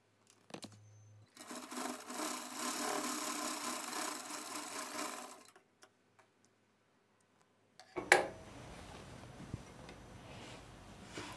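A sewing machine stitches a boat neck lining blouse, running steadily for several seconds in one loud burst, then falling silent before a sharper clatter of handling and motor noise follows.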